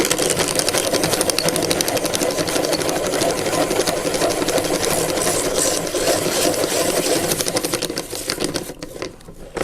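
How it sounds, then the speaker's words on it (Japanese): Asuka Dessin Mate hand-crank pencil sharpener shaving a 2H drawing pencil, heard close as a fast, steady mechanical whirring and grinding that runs for most of ten seconds before slowing and stopping. "次 2H を削り終わるまでに、何回転何秒くらいかかるんでしょうね"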